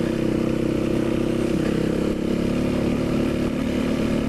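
A BMW GS motorcycle rides along a road in Utah, its engine holding a loud, steady, close-up drone with little change in pitch throughout.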